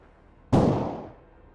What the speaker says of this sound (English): we heard a gunshot coming from the mansion